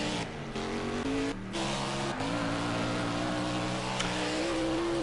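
A race car at the Sonoma round pulls into the pits, its engine droning steadily at close range with small shifts in pitch as it slows, loud and continuous throughout.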